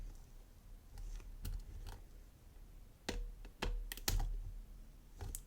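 Pins click sharply while a Tigris Omega oval cylinder lock is being picked. The clicks are close and quiet and come singly or in small clusters over a faint background hiss.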